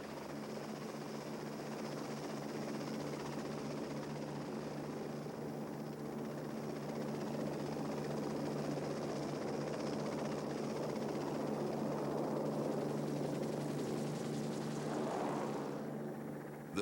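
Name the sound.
Lockheed XH-51 rigid rotor helicopter flying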